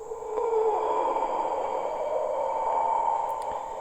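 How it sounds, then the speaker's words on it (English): Breathing of the creature SCP-966 in the horror video game SCP: Containment Breach, a steady, raspy, hissing breath held at an even level for several seconds over a faint high electronic whine. "you hear breathing that sounds like this."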